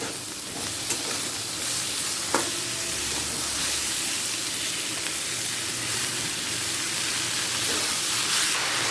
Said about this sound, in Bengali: এরপর দিয়ে দিচ্ছি কুচিয়ে নেওয়া লাল শাকটাকে